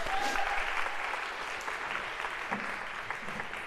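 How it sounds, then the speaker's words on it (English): Steady applause from a lecture-hall audience, many hands clapping at once, filling the room with a dense, even patter that holds for a few seconds. "waiting for applause"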